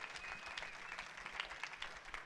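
Church congregation applauding the King of Glory, a quiet, distant wash of many hands clapping steadily for a couple of seconds.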